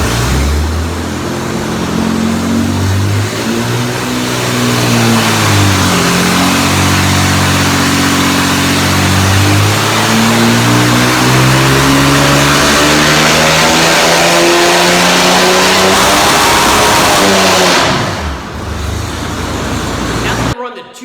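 A Chevy 292 inline-six engine with stock intake and a 2-barrel Holley carburetor revs up and down repeatedly, loud and close, rising and falling pitch over a steady idle.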